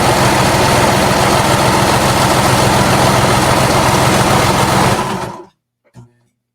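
A sewing machine running a lightning stitch along a half-inch seam in fabric: a loud, close, continuous motor drone with rapid needle chatter that stops abruptly, followed by a single faint knock.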